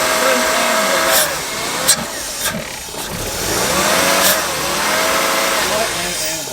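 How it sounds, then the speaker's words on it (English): A BMW E36 drift car, running with its idle air control lines disconnected, revs in a few rising and falling bursts over a rough running engine, close by, while people talk over it. "That runs great for having no like idle air control lines or anything hooked up."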